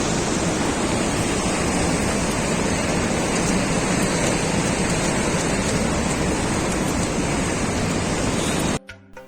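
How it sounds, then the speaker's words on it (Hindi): Glacier meltwater rushes down a mountainside on the Gaumukh trek above Gangotri, a loud continuous roar of flowing water that holds steady for several seconds before cutting off abruptly. "यहाँ से देखिए ऊपर से बर्फ पिघल के नीचे पानी आ रहा है।"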